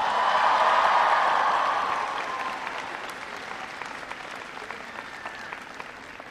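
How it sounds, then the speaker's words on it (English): An audience at a University of Michigan speech breaks into loud, sustained applause that peaks in the first two seconds and then tapers to scattered clapping and crowd murmur. "Give them a round of applause."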